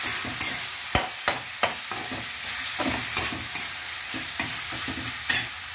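Finely chopped tomatoes frying in a pan, a continuous sizzle broken by a run of sharp, close scraping and tapping strokes as they are stirred; no talking.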